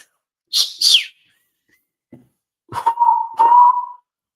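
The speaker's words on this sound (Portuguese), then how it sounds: "Alguém perguntou como é que assobia assim." A person whistles through pursed lips, shaping several different tones: two quick high shrill notes, a pause, then a longer lower steady whistle that wavers and holds, close and clear with no talking.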